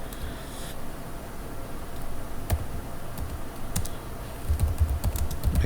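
Steady clicking of a computer keyboard as commands are typed for a Linux server, rapid irregular key taps over a constant hiss, with a few louder keystrokes near the end.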